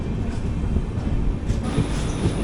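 The 22616 Intercity Express with new LHB coaches at platform 1 of Chittoor station, giving a steady low rumble of rolling stock and faint rail noise, fairly quiet and continuous with no voices.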